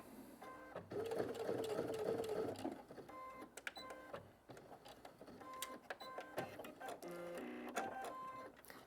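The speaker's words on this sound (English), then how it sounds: "drop your presser foot, drop your needle, and I start with the back stitch" A sewing machine back stitches fabric with the presser foot and needle lowered, running in close, rapid mechanical bursts with short pauses and a steady whirring hum between them.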